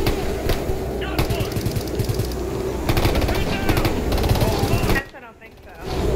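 Rapid automatic gunfire from the video game Ghost Recon Future Soldier, dense bursts of shots rattling almost continuously and loudly, briefly dropping away near the end before resuming.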